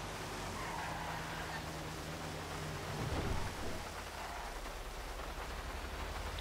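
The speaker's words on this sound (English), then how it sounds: "it's going to rain a lot. A lot. As you can see." Steady heavy rain hisses over the whole stretch in Grand Theft Auto V, with a low roll of thunder rumbling up midway before the downpour carries on.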